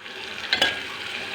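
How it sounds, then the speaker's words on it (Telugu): Spices tempering in hot oil in a pan for a potato curry, a brief steady sizzle with a couple of quick stirring clinks, close and moderately loud, with no talking. "ఆలుగడ్డకి పోపు చేస్తున్నా ఫ్రెండ్స్"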